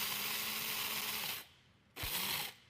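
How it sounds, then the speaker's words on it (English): Peppercorns are ground in a grinder, making a close, gritty, rasping grind in two bursts separated by a brief pause, with no voices. "So let's just grind these up real quick."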